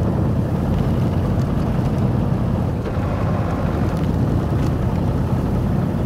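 A truck engine idles in Mudrunner as a steady, low rumbling drone with a broad noisy hum, constant and fairly loud, no voices present.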